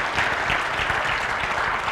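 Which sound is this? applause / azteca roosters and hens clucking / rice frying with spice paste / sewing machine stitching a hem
applause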